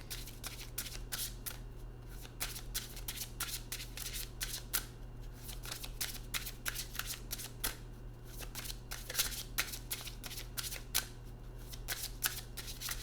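A New Orleans oracle card deck is shuffled steadily, with a continuous run of soft, close flicking and riffling snaps.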